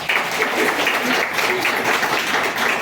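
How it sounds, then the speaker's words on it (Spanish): A crowd at a community celebration of a commune's anniversary claps steadily and loudly for an honoree, a brief burst of dense applause with faint voices mixed in. "a Cristian Picuango, un aplauso"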